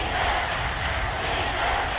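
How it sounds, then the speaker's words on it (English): Steady, dense roar of a simulated stadium crowd at an NFL game between Tampa Bay and New Orleans in Madden 24, a continuous wash of noise with no clear peaks. "Crowd getting in it a bit already."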